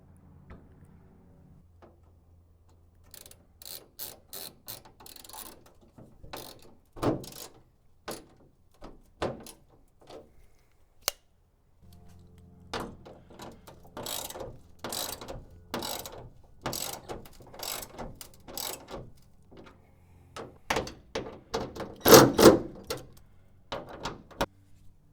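Screws being driven in to refit an exterior part on a VB-generation Subaru WRX, heard as intermittent ratcheting clicks and short mechanical bursts that come and go close by with no talk.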